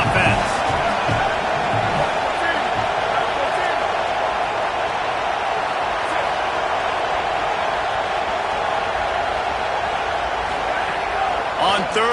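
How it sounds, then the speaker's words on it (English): A stadium crowd roars steadily at a Michigan vs Michigan State college football game, a dense, loud wash of noise that holds without a break, with a broadcast commentator talking over it. "This crowd trying to make life miserable for this offense."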